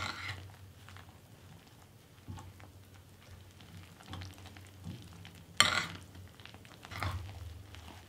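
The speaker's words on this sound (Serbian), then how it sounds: "I sve ću promešati sa kašikom." A spoon stirs thick flour and hot-water dough in a bowl, with soft scraping and knocking strokes repeating steadily and close by, no voices.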